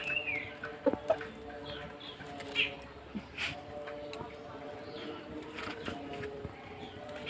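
Farmyard chickens cluck faintly in short, scattered calls while a person talks nearby.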